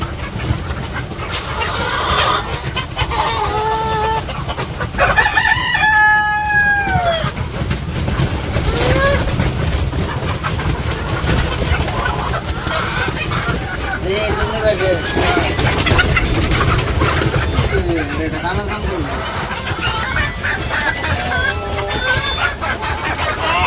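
Chickens in a village yard cluck and crow after being given water, with clear calls rising and falling throughout while people talk nearby.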